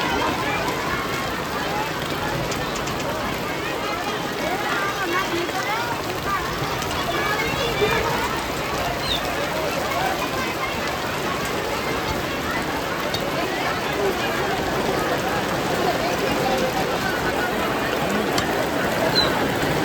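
Hail falling during a violent storm at an outdoor Bhagwat Katha gathering in a village, a dense, constant rattling and pattering roar with no break, with people talking underneath.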